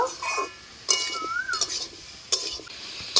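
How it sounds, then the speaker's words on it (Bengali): Sour mango pieces tossed with salt and turmeric in a bowl for pickle, a few scattered scraping stirs and soft clinks, close and irregular amid quiet background music, no talking. "লবণ হলুদ দিয়ে ভালো করে নাড়াচাড়া করে নেব"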